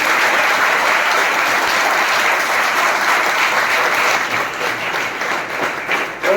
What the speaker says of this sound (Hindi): आपके प्रिंसिपल के लिए एक जोरदार ताली।